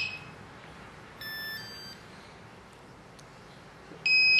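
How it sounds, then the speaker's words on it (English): Short electronic beeps from a quadcopter, a tonal chirp sequence partway through and a louder beep near the end, against quiet background hiss. "You will hear beep sound."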